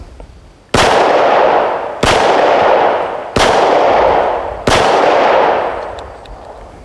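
Four loud, sharp gunshots from a Smith & Wesson M&P 22 Magnum pistol at an outdoor range, fired about a second apart, each followed by a decaying ring.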